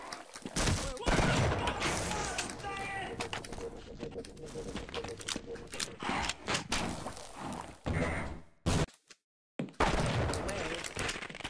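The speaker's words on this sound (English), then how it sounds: "No, stop shooting me." Enemies in Half-Life fire rapid, crackling volleys at the player, dense and close for most of the stretch, then breaking into scattered shots with a brief dead gap near the end.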